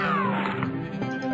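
A cartoonish cat meows once in the space arcade video game Rockitty, a short, clear, fairly close call that bends downward.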